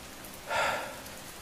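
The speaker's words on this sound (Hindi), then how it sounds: "बारिश तेज होती जा रही है" A brief, soft wash of heavy rain rising for a moment over a steady, faint background hiss, with no voices.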